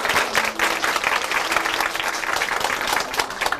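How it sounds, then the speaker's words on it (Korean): A church congregation gives a full round of applause for two testimony speakers during a worship programme, a loud, dense clapping that holds steady from start to finish. "두 분께 다시 한번 박수 드릴까요?"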